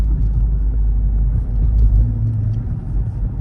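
Dodge Charger R/T engine rumbling at a car wash, a deep, steady low-pitched growl close by with slight swells, no talking.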